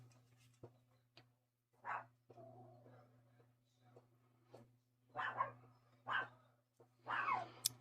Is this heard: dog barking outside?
yes